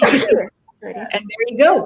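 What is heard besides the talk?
sneeze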